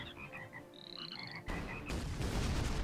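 Frogs croaking in a video game, a run of quick rhythmic croaks and trills, followed by loud booming in-game blasts that swell and dominate the end.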